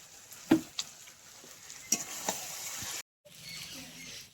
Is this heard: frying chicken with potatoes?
yes